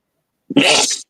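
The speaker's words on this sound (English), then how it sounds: "I've had some violent fucking sneezing lately." A single violent sneeze bursts out after a short intake of breath, loud and close, then stops abruptly.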